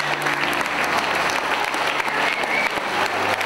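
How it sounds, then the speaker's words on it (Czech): Students from a Nové Město secondary school applaud after a film screening about Martina Sáblíková, steady dense clapping filling the hall throughout, fairly loud and close, with no talk over it. "Mě tleskali a zřejmě prostě se jim to líbilo"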